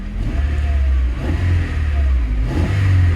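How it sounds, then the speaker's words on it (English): The engine of a 1947 Ford truck with a swapped LS V8, burning oil and smoking from the exhaust, revs up in a few throaty surges, loud and close, with no talking. "Let's give it a little rev."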